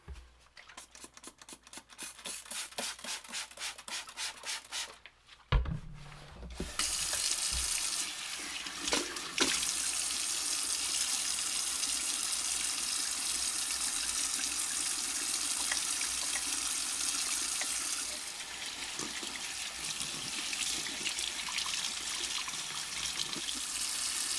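Water runs into a sink while glass, enameled and plastic parts from a 1960s Unimet GL-1 lantern are washed with Simple Green, starting with choppy splashing and clatter before settling into a steady, close tap flow.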